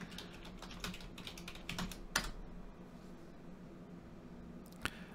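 Keyboard shortcuts pressed on a computer keyboard in a quick cluster of soft key clicks, then one sharp tap, a quiet pause and a final isolated click, all faint against low room noise.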